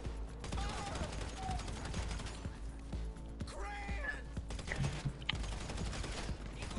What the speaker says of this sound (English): There's like five of them shooting at you at a time.